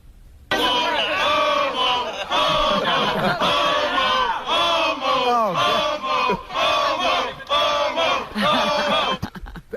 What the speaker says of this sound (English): Sit and sleep crowd ragging on Sal.